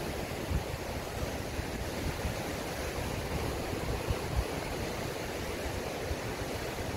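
Swift, cold river water rushing at Sandstone Falls in West Virginia, a loud, continuous broadband roar heard from nearby with no pauses and no talk.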